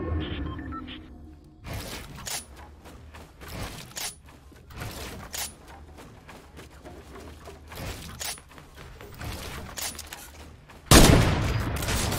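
Gunfire in Fortnite Battle Royale: rapid bursts of shots and rattling weapon fire through most of the stretch, with a louder, harsher blast near the end.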